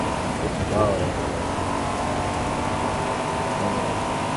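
Heavy rainstorm in the Forza racing game, a steady, loud broadband hiss of rain running throughout with a brief faint tonal sweep near the start.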